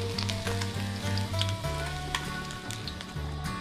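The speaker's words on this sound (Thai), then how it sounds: "ทอดจนกรอบนะครับแล้วค่อยเอาขึ้นปลาดุกก็กรอบแล้วนะครับ" Catfish deep frying in oil until crisp, a steady close sizzle with light crackle and a low hum running through it, no voices.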